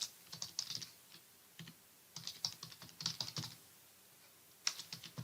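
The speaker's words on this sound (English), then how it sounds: "When I start typing the barman's character's name, Trelby fills in the rest." Someone types on a computer keyboard while writing a screenplay in Trelby screenwriting software, quick irregular clusters of soft key clicks with brief pauses between bursts, close and quiet.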